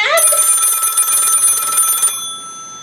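A telephone rings close and loud with a bright, steady electronic trill lasting about two seconds before stopping abruptly, leaving a faint room hiss.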